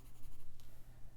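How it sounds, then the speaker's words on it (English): A stylus scratches across the screen of a reMarkable tablet, a soft, close, papery scribble in short strokes, quiet and with no voices. "So again, you can hear this is me writing"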